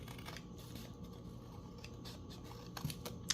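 Scissors snipping a paper tag, quiet close crisp cuts and paper rustles in an irregular rhythm over a low background hum.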